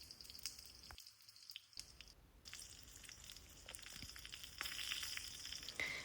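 A snack fries in a pan with a faint, steady sizzle and scattered soft pops and crackles as both sides brown.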